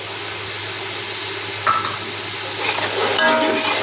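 Whole cumin and half-crushed red chili roasting in a pan for achari aloo chana pulao, a steady soft sizzle throughout with a few light stirring scrapes and utensil clinks later on, no talking.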